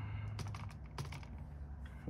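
Keys tapped on a Lenovo T420s laptop keyboard, a handful of close, quiet clicks in an uneven rhythm, with a couple of firmer presses near the middle.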